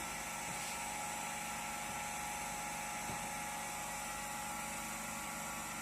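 A three-phase induction motor runs under load on a test bench, giving a steady, continuous mechanical hum and whine with a faint rhythmic grind, constant in level throughout with no voices.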